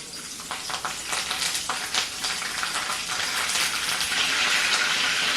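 Chillies and curry leaves frying in hot oil in a kadhai until crisp for kurmura chivda, a steady close sizzle with bubbling crackle that swells louder toward the end, with no talk.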